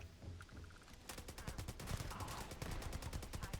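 Allied AA-15 rifle mod firing in Starfield: a rapid automatic stream of crisp shots starts about a second in and continues steadily to the end, loud and near.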